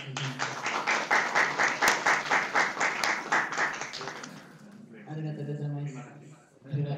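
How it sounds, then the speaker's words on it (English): Audience applause at an academic lecture on corporate internal control, steady rhythmic clapping for several seconds that fades as a speaker begins talking. "I would like to have a round of applause to Dr. Senior."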